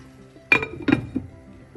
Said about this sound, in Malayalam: വീണ്ടും അടച്ചു വയ്ക്കാം